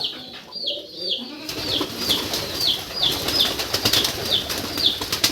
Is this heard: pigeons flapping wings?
yes